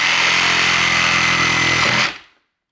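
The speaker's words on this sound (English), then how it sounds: "You've cut the 1 nail with the sawzall." A reciprocating saw rips through a nail inside a wall during a home WiFi installation, a loud harsh buzzing whine that holds steady, then cuts off abruptly and fades to silence.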